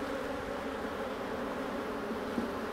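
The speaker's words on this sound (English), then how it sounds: "you won't see anything like bees acting like this" Honey bees buzzing agitatedly around an open hive during a beekeeper's late-season inspection, a continuous, even insect drone close by, fairly faint, with no voices.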